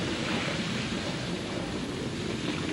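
Water blasting onto a locomotive fire during a 1941 wartime night, a loud, dense, unbroken roar of spray and hiss that stays steady throughout.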